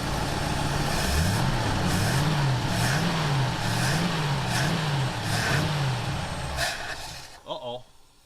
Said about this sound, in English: if I rev her up